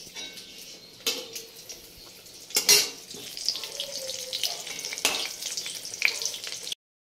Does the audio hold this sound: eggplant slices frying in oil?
yes